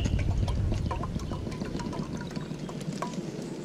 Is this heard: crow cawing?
no